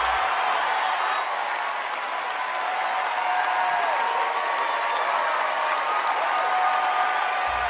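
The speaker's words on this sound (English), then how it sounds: "Standing ovation." Sustained audience applause with cheering at the Tony Awards, a large crowd giving a standing ovation, dense steady clapping throughout that stays loud from start to end.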